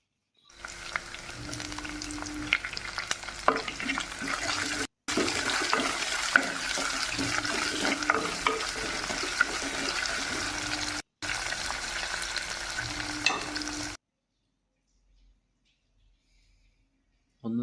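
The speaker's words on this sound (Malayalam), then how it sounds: "ഇനി അതിലേക്ക് പച്ചമുളക് ചേർത്ത് കൊടുക്കാം. ഇനി കറിവേപ്പില കൂടി ചേർത്ത് ഒന്ന് നന്നായി ഇളക്കി യോജിപ്പിച്ച്" Green chillies and curry leaves fry in hot oil in a pan, giving a continuous hissing sizzle with faint spits for about thirteen seconds, broken by two brief cuts, then near silence.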